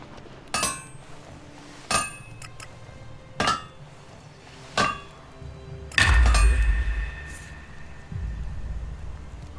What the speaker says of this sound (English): So I just swing my hammer all day.